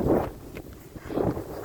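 Wind gusting outdoors as weather turns ahead of a possible tornado, a low rumbling buffet across the microphone that swells, eases and rises again.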